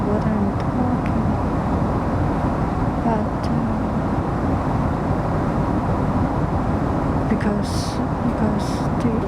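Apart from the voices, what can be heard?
airplane cabin noise in flight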